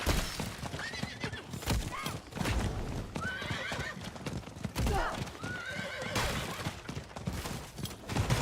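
A horse mount gallops in Diablo 4, its rapid clip-clop hoofbeats running throughout with a whinny and scattered game effects, loud and continuous.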